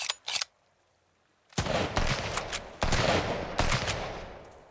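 Gunfire in the survival game Sunkenland: a short burst of shots, a pause, then sustained loud rapid automatic fire in repeated bursts, close and dense.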